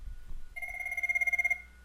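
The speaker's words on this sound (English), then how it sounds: "you can hear the phone ringing in the background" An IP phone on extension 2000 rings with a bright electronic trill that pulses rapidly for about a second after a brief low rumble, then cuts off.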